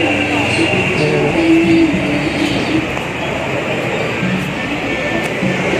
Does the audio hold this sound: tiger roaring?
no